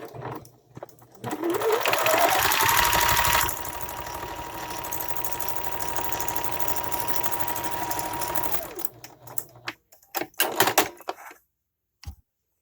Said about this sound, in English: I'm going to take the underlying other side and I'm going to give that a quick sew as well